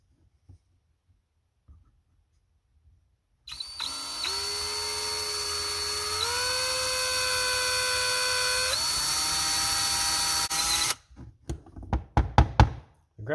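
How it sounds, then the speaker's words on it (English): A small drill whirs steadily for about seven seconds, drilling out a brittle graphite contact in a John Deere magneto, its pitch stepping up twice, followed by a few sharp taps and knocks. "you can kind of drill it and then use a little punch to break it out"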